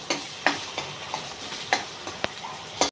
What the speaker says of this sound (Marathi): आलं लसूण पण कांद्यावर छान परतून घ्यायचं